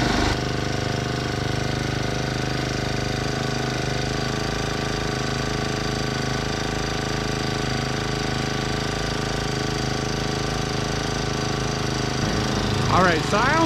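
A BLAZE 49cc four-stroke gas scooter engine idles steadily, with a continuous mechanical drone and a buzzing, even hum that stays constant in level throughout. Near the end a brief rise in the sound suggests the idle speed is being adjusted.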